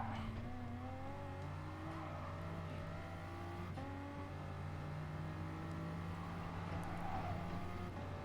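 A race car engine in Gran Turismo Sport during a Group 3 endurance race, droning steadily with rising and falling pitch through gear shifts, a continuous close engine tone with faint tire noise and no talking.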